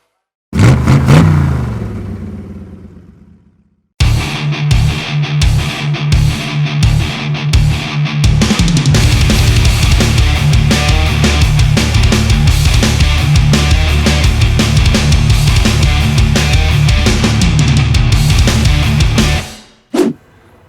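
A Kawasaki Ninja ZX-25R four-cylinder motorcycle engine revs hard and close, a sharp blip and fall, then a string of quick throttle stabs building into a sustained high-rpm scream that cuts off at the end.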